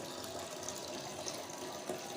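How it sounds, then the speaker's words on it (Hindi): Water is poured from two jugs into a cooking pot to make meat stock (yakhni) for Peshawari-style qabuli pulao, giving a steady, continuous rushing splash that stays fairly even throughout. "2 जग मैंने इसमें पानी शामिल किया"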